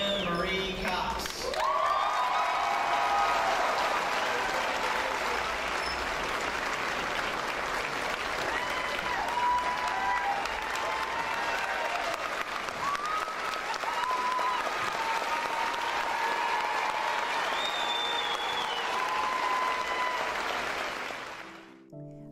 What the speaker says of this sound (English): At her graduation ceremony, Brianne received a standing ovation from the top 10 students, as well as many in the crowd